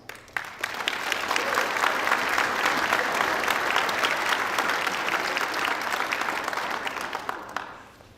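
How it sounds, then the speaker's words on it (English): Sustained applause from a large audience at an honor society induction ceremony, rising quickly to a thick, even roar of clapping that holds steady before tapering off at the end. "Please hold your applause until all names are called."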